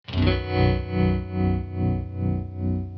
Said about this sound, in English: You can also have trem on an amp.